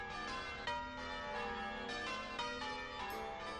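Church bells ring in a steady peal of overlapping, sustained metallic tones, moderately loud with repeated strikes and no talking.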